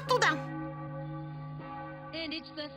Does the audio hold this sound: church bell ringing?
yes